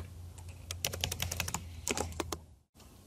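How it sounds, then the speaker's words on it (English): Typing on a computer keyboard while entering form data: a quick run of close, crisp key clicks in an uneven rhythm, a brief pause, then another cluster of keystrokes, with a short silent gap and one final click. "I'm going to go ahead and type that in."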